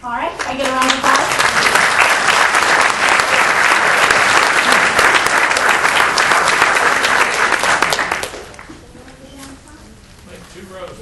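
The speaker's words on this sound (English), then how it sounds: "All right, can I get a round of applause?" Loud, dense applause fills a city council meeting chamber for about eight seconds, then drops off abruptly, leaving quieter room chatter with voices talking.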